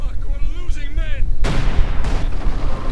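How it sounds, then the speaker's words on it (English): Howitzer artillery firing in a Company of Heroes 2 2v2 match: a commentator talks briefly, then a heavy, sharp boom hits with a long rumbling tail, followed by a second blast. "A second howitzer going in."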